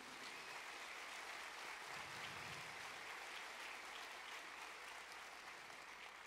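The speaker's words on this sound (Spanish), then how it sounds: "Dele ese aplauso al Señor bien fuerte." A church congregation claps loudly during a sermon, a steady, even roar of applause that carries on unbroken for several seconds.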